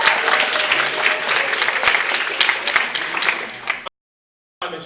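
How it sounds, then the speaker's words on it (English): A crowd claps loudly and steadily for about four seconds before it cuts to silence, then the applause resumes briefly. "Let's give them another big round of applause."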